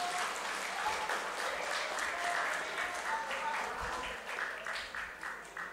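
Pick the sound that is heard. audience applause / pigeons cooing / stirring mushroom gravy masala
audience applause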